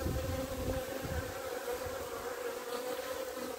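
A dense, steady buzz of many honeybees swarms around an opened beehive with its frames full of bees, close and continuous with no voices.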